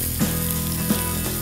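Onion and pepper slices sizzle steadily in a little hot oil for a three-layer burger, a constant close frying hiss with a few soft stirring bumps.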